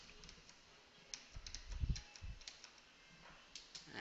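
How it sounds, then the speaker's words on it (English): Keystrokes on a computer keyboard while entering a command at a server console, a sparse run of light clicks with a denser burst in the middle, close and moderately quiet. "if you are typing here one command"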